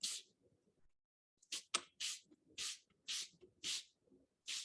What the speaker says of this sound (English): let's go ahead and spray some of this Windex onto Calvin's drawing.